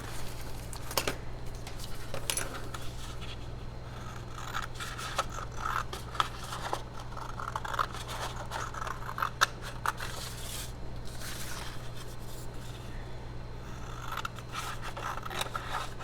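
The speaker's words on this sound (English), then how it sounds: "And then I'm going to cut that out." Scissors snip through paper to cut out a traced envelope-journal shape, a run of close, crisp cuts and rustles over a steady low hum, with no talking.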